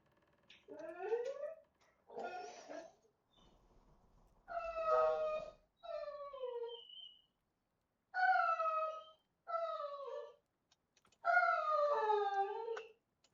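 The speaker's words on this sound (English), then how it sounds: "I apologize for those that are hearing my dog in the background." A fussy dog whines and howls in the background indoors, a series of about seven drawn-out, rising and falling yowls separated by short silences, moderately faint and with no talk over them.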